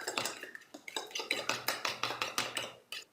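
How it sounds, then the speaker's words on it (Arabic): A whole egg whisked with a utensil in a small bowl, fast rhythmic clinking strokes against the sides, close and crisp, about a dozen quick beats before stopping. "غادي نوضع فيه بسم الله اولا البيضه، بيضه كامله، نحاول نخفقها شويه"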